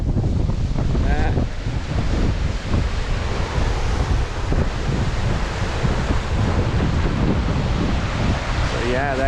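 Rushing water of a waterfall in Mark Twain National Forest in spring, a steady, loud, close roar mixed with wind buffeting the microphone, with a brief voice near the end.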